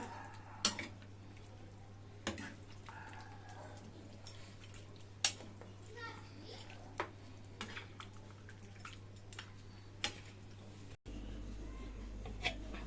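A spoon stirs Coimbatore chicken gravy in a pot, with occasional sharp metal clinks against the pot at irregular intervals over a steady low hum, under quiet speech.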